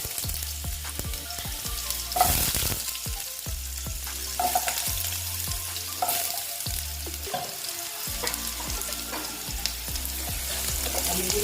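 Potatoes crackle and sizzle in hot oil throughout, with repeated scraping and stirring knocks from a spatula, no talking.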